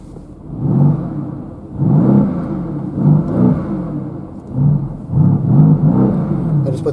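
Mercedes-AMG GT S engine revving repeatedly, several rising and falling throttle blips in a steady rhythm, low and rumbling, close and fairly loud.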